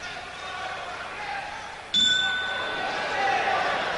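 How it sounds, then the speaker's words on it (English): A boxing ring bell clangs once to start round four of a world featherweight title fight, a bright ringing tone that lingers over a murmuring arena crowd. "The bell for round number 4"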